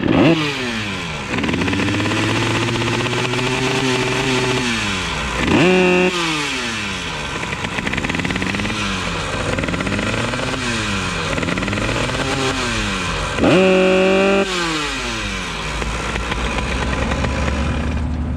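A motorcycle engine with a broken gearbox runs steadily close by, with several sharp revs that rise and fall in pitch between stretches of idling.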